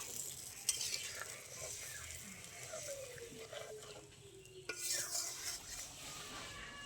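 Egg curry gravy, thinned with a little water, simmers quietly in a pan with a soft, steady sizzle, punctuated by occasional clinks of a utensil against the pan.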